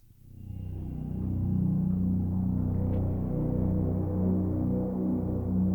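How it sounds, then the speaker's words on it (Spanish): Low, droning ambient horror music for a dramatized audio drama swells in and holds steady, with dark sustained tones and a faint high glint, creating an eerie, unsettling mood. "Es otra música ambiental que le da un rollo terrorífico."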